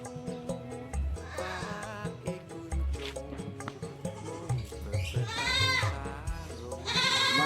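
Peranakan Etawah (PE) goats, including a five-month-old recovering from illness, bleat repeatedly at close range, several wavering calls rising over a busy background of other animals and low noise.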